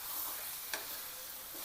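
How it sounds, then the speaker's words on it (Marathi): Cut potatoes are sautéed in spiced oil, a brief close sizzle with a quick stirring scrape partway through, fairly quiet and without speech. "कापलेले बटाटे टाकायचे,"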